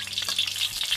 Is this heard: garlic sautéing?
yes